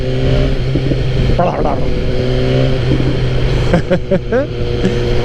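A BMW S1000R motorcycle engine, a tuned sport bike, roars loudly and then drops off as the throttle is released, with crackling pops on the overrun near the end; its steady rumble continues throughout.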